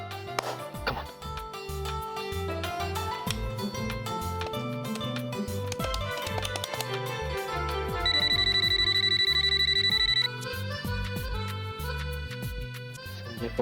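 A telephone rings in a home during a Marathi TV serial scene, a steady electronic ring tone rising for about two seconds over continuous background music.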